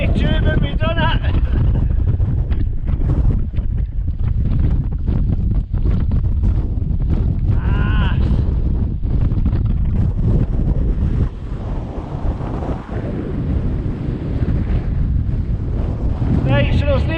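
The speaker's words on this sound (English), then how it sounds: "it's cold and windy" Strong, cold wind buffets the microphone on the summit of Beinn Chabhair, a Scottish Munro, as a loud, continuous low roar with gusty surges, while a person talks over it.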